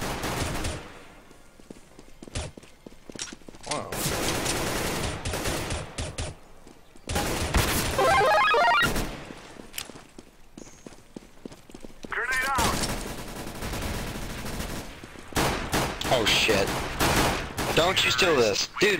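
Bursts of automatic gunfire in the video game CS:GO come in several loud volleys separated by brief pauses, with players talking over parts of the shooting.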